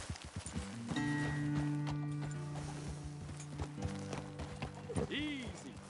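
Horse hooves clip-clop in Red Dead Redemption 2, with a whinny near the end and steady tonal sounds through the middle, all at close range and fairly loud.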